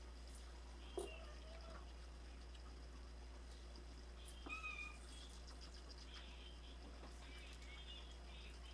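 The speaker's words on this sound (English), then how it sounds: "You hear our cat, right?" A house cat meows and whines softly indoors, several short rising cries scattered across the stretch over a low electrical hum, faint and somewhat distant.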